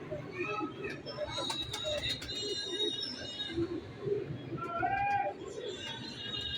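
Pigeons coo and warble in soft repeated calls, mixed with chirps, while people talk nearby over a busy background.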